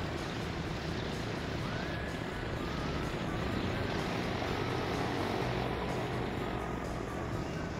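Propeller drone of a Super Constellation airliner in the game Transport Fever 2, a steady broadband engine roar that holds at constant loudness throughout, with no talk.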